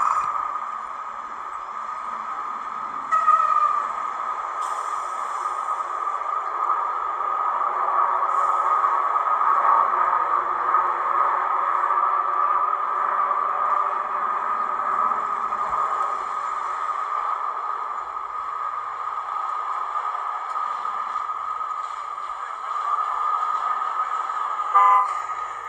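Urban scenic background from a Gaugemaster GM78 sound module on a model railway layout gives a steady, continuous town rumble with a faint train-like drone that holds at an even level throughout, with occasional soft clicks.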